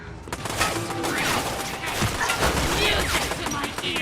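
An enemy fires a gun in the video game Bendy and the Dark Revival, a dense, rapid burst of shots that lasts the whole moment. It sounds loud and close, and a voice may be speaking over it.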